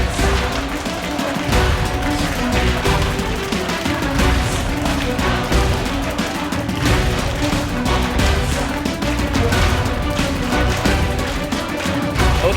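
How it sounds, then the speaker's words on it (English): Dense, continuous roar of a home crowd cheering at an esports LAN final, loud and steady throughout with no clear gaps, a wash of voices and noise filling the space. "You can hear the people cheering for them right now."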